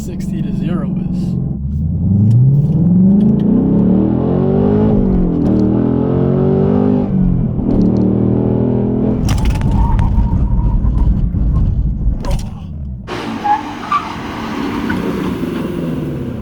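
A 2024 Ford Mustang Dark Horse roars hard under acceleration with rising engine pitch through gear changes, then eases off as it brakes from 60 to 0, loud and close from inside the car, with people talking over it.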